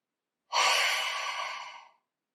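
A single slow breath during a seated neck stretch, close and fairly loud, a soft airy exhale of about a second and a half that tapers off gradually.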